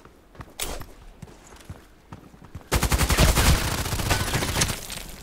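Rapid high-fire-rate gunfire from a cutter weapon in the sniper shooter game ADXsniper 14, starting as sparse scattered shots, then erupting into a loud, dense burst of continuous fire.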